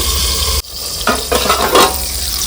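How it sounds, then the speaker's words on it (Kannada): Tomato, egg and rice mixture frying in oil in a pan, a steady close sizzle broken by a brief cut, then stirring scrapes that come and go over the frying hiss, with no voices. "ಈಗ ಇದನ್ನ ಎಣ್ಣೆಯಲ್ಲಿ ಚೆನ್ನಾಗಿ ಬೇಯಿಸ್ಕೊತೀನಿ"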